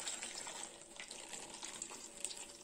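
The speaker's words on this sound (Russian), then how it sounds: "У меня вскипел чайник, а теперь я буду обливать." Freshly boiled kettle water is poured over eggplants in a kitchen, making a steady, close, hissing splash throughout with no speech.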